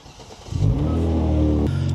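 Genesis G70 car engine cranks and catches after a quiet moment, then settles into a loud, steady rev close by before dropping slightly toward idle, with no talk.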